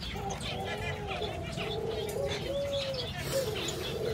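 Zebra doves cooing in soft, rolling trills, several drawn-out calls in a row heard fairly faintly over steady background noise.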